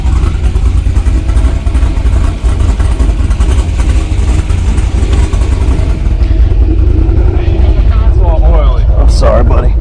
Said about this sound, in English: we're gonna go for a draggy pull in the 665 wheel C6Z